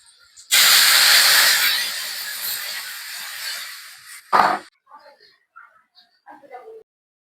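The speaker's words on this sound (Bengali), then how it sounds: "এখন রসুন কুচি মরিচ কুচিটা দিয়ে দিচ্ছি বাগারের জন্য" Chopped garlic and chili hit hot oil for a Bengali dal tempering, bursting into a loud, steady sizzle that slowly fades, followed by a brief clatter and softer crackles near the end.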